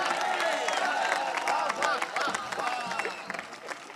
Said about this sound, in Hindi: आपकी तालियां कमजोर है मेरे भाई